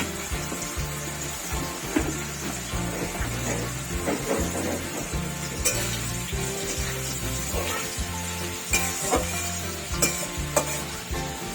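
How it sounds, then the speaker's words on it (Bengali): Potatoes with turmeric frying in a pan, a constant close sizzle with rhythmic scraping and clinking of a spatula stirring throughout. "আলুগুলো ভেজে নিচ্ছি।"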